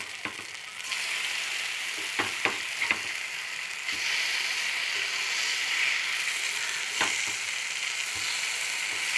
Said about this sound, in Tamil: கொஞ்சம் கொஞ்சமாக எண்ணெய் ஊற்றி வறுக்கலாம்